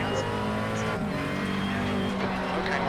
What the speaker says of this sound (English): Okay, Mark, there's a faster car approaching.